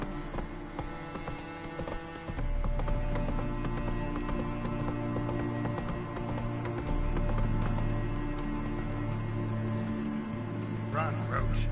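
Hooves of a horse in The Witcher 3 video game clip-clop steadily at a run across the whole stretch, close and fairly loud, with someone talking over them and game ambience underneath.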